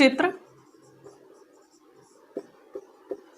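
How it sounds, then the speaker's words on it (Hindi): Faint, scratchy handwriting strokes on a writing surface during an art history lesson, with a brief voice at the start, then quiet, and a few short, distinct marks near the end. "तो लिखेंगे"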